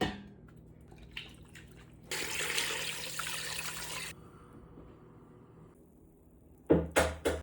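Water gushes into a bone broth pot for about two seconds in a loud, steady hiss-like pour, followed by quieter trickling and then a few sharp splashes and clinks near the end.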